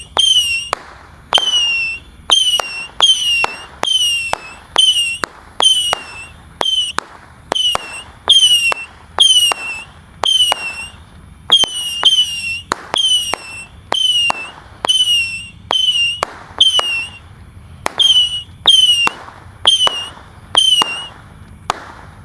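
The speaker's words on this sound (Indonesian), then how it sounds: "Missile sudah menyala. Kita lihat reaksinya ya. Ini 25 shot." A rapid 25-shot missile firework fires, each shot a sharp launch with a whistling rise and crack, in quick rhythmic bursts with brief pauses between.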